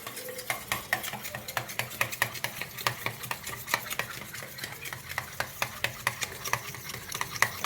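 A utensil stirs food around a pan in quick, regular strokes, each scrape clicking sharply and close over a faint background sizzle, with no one talking.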